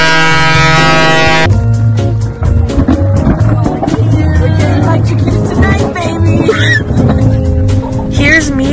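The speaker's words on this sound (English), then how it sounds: "Let me drive the boat." A motorboat engine drones loudly and continuously, with wind buffeting and voices mixed in.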